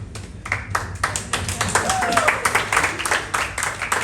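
An audience at a stand-up comedy show claps in a brief, uneven burst, close and lively, with scattered sharp hand claps rising and fading over a few seconds.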